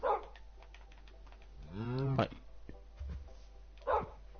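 A dog in the Minecraft video game gives short, clipped barks and a rising whine between them, sounding close, while someone speaks a single word.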